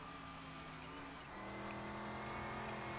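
Engine of a car driven around a lap in Car Mechanic Simulator 2021, a steady loud drone with harmonic tones that dip and shift pitch midway as the car changes speed, continuous and alone.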